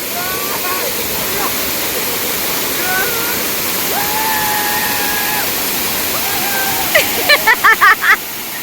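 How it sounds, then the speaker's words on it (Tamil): The Kodiveri waterfall in Erode, Tamil Nadu, pours forcefully with a loud, steady roar throughout, with faint voices and a few brief sharp sounds near the end. "இங்க பயங்கர ஃபோர்ஸா தண்ணி கொட்டுது"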